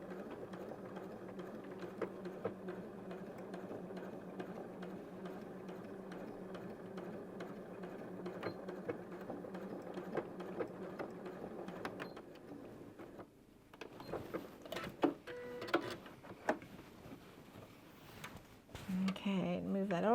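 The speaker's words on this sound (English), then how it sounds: "I'm going to bring this through the sewing machine" A sewing machine stitches an apron with a steady, close mechanical whir, then turns choppier and intermittent near the end. Talk runs alongside.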